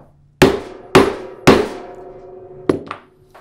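Hammer striking a setter tool to set a grommet in leather: three sharp, close metallic-thudding hits spaced about half a second apart, then a quieter fourth tap and a faint follow-up knock.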